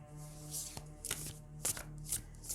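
Tarot cards shuffled by hand in several quick riffling bursts, close and crisp, with a faint steady hum underneath and no talking.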